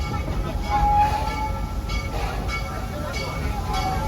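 Serengeti Railway park train at Busch Gardens Tampa rolling steadily, a low continuous rumble with faint tonal squeal from the wheels, while a loudspeaker voice makes announcements over it.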